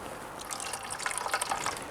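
Cooking juices from slow-cooked carnitas pour into a baking dish for enchiladas, giving a close, steady liquid trickle and splash that lasts about two seconds with no talking.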